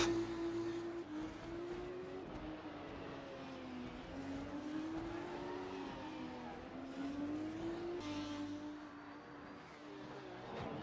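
A 2020 Formula 2 race car engine in the Assetto Corsa racing game at the Sakhir Grand Prix: a steady, high-revving whine that climbs through gears and drops on downshifts into a chicane, heard alone at moderate level.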